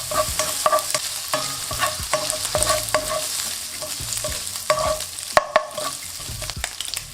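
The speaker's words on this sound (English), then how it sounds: "In with our turkey bacon or beef pancetta if you want. Cook this until it starts to get light brown." Turkey bacon frying in oil in a pan for a creamy pasta, a loud close sizzle punctuated by rhythmic scraping stirs and occasional sharp clicks of the utensil against the pan.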